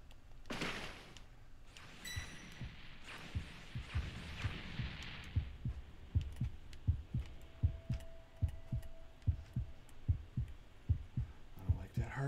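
Heartbeat effect in the Dragon Ball: The Breakers video game, a steady low double-thump pulse repeating over several seconds alongside other game noises and a brief tone.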